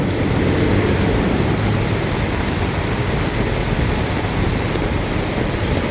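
Heavy rain falls on a construction site during a low-pressure monsoon storm, a loud, steady, unbroken hiss of downpour that fills the whole stretch.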